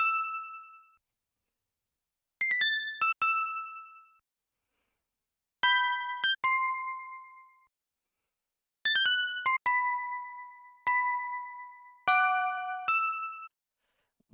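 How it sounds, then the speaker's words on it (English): Bright electronic bell tones from a hip-hop R&B beat ring out in short clustered hits with long decaying tails, separated by silent gaps, loud and alone with no drums or voice. "Now we come to the izaya bells."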